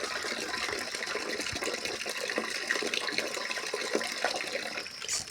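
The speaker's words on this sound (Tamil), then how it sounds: "இப்போது தண்ணி ஊற்றிக்கலாம்." Water is poured onto cowpea and tomato plants in a home garden, a steady splashing, trickling stream lasting several seconds with no talk, close and moderately loud.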